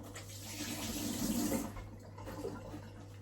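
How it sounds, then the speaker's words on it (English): A kitchen tap runs as hands are rinsed while making oat milk: a soft, brief splash of flowing water that swells and then fades over a few seconds, with no talk. "Just wash off my hands."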